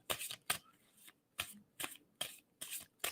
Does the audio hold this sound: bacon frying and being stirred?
no